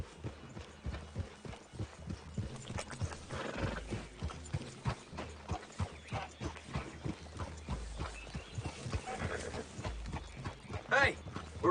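Horse hooves clop in a steady trotting rhythm in a video game, with occasional whinnies and low rumbles mixed in.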